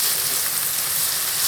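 Vegetables fry in a little oil in a frying pan while borscht is being made, a steady, close hiss of sizzling with no talk over it.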